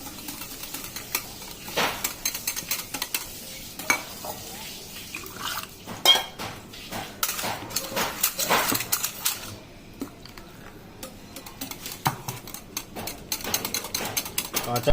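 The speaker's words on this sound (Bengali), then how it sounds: "পেস্টটা পাতলা করে নেবো জল দিয়ে। এটাকেও ভালো করে মিশিয়ে নেব।" Raw mango paste is thinned with water and stirred in a bowl for ice cream, making intermittent scraping and clinking of a utensil against the container, with quieter stretches between bursts.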